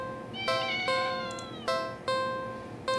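A cat meows repeatedly in a video game, about five drawn-out tonal meows in a steady rhythm over a soft background hum, clear and close.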